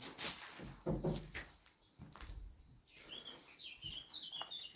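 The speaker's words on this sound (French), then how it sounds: "Chant des oiseaux, quoi." Birds chirp and call outdoors around an old fort, with bright tweets scattered over faint rustling and footstep-like bumps, fairly quiet and distant-sounding.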